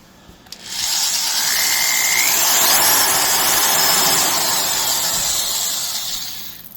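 A DeWalt DW890 18-gauge electric sheet metal shear motor spins up and runs at a steady, high-pitched whine for several seconds, then winds down slightly; no talking.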